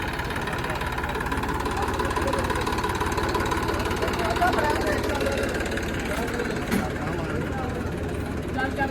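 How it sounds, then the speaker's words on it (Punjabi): Heavy tractors idle steadily, brought in to haul sand out of farm fields; the engine holds a continuous, close, unbroken rumble for the whole stretch, with faint voices mixed in. "ਤਗੜੇ ਤਗੜੇ 14 14 ਲੱਖ ਦੇ ਟਰੈਕਟਰ ਉਹਨਾਂ ਨੇ ਲਿਆਂਦੇ ਨੇ"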